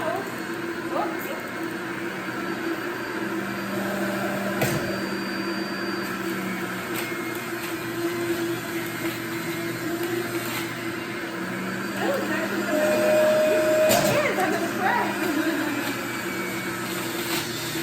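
An electric juicer runs while juicing apples in a kitchen, a steady close whirring motor hum lasting throughout, with a voice speaking over it.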